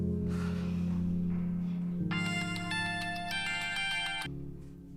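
A phone ringtone playing a melodic electronic tune over a sustained tone, loud and continuous, shifting to a brighter chiming pattern midway before settling back.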